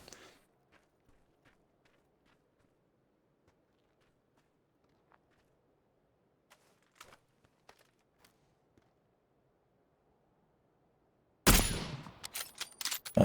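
Gunfire in PUBG on Xbox One: after long near-silence, a sudden loud cluster of sharp shots erupts close by in the last two seconds, with rapid cracks trailing off.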